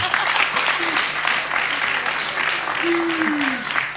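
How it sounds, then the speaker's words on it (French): An audience claps steadily throughout, a thick wash of applause, with a brief sliding tone and some voices mixed underneath. "Applaudissements, s'il vous plaît."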